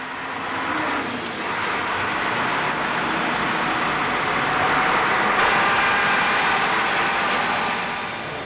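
Engines of a Short Belfast transport aircraft drone loudly and continuously at an airfield in winter, swelling slightly toward the middle before easing off, with no voices.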